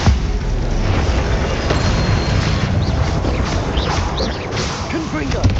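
Confringo fire spell explosions in the video game Hogwarts Legacy: dense, loud booming blasts roll over a constant wash of battle noise, with short crackling bursts throughout and no clear gaps.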